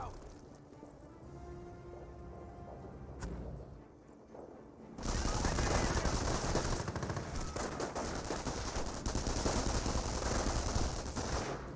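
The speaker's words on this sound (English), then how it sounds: "Half track and MP40s firing away" Bursts of MP40 submachine gun and half-track machine-gun fire in a Company of Heroes battle, growing into dense, loud continuous volleys with a voice talking over the din.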